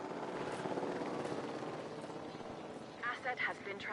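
A helicopter in the dinosaur park game Jurassic World Evolution whirs with a steady rotor chop under continuous talking, and brief sharp bursts come near the end.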